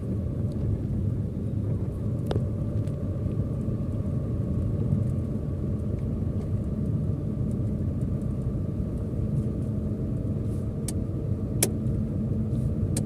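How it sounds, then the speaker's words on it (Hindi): A car moves steadily along a road at night while another car approaches from the front. A constant low engine and tyre rumble fills the scene, broken by a couple of faint clicks, with no voices. "अब यहाँ पे दोस्तों सामने से एक कार आ रही है"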